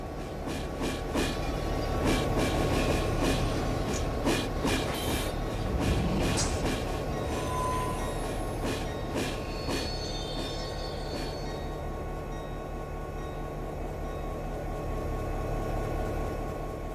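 Freight cars rolling slowly through a rail yard in the Run 8 train simulator game, a steady rumble with repeated clicks of wheels over rail joints and occasional faint squeals, no voices.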